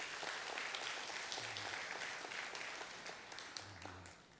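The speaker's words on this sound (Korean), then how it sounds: "우리 하나님께 우리 감사의 박수 같이 올려드립니다." Inside a church, a congregation gives a round of applause, a full, continuous wash of clapping from many hands that holds steady and then gradually fades. It is heard alone at moderate volume, with no voices.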